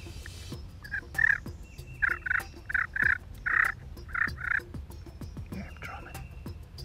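Wild turkey nearby giving a run of repeated gobbles, about nine loud burbling calls in quick clusters, over a low rumbling outdoor background in the woods.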